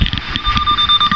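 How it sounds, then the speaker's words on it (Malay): Isuzu D-Max V-Cross reverse parking sensor buzzer sounding a steady, high electronic tone, short and fairly loud over faint background wind noise. "Tu buzzer dia."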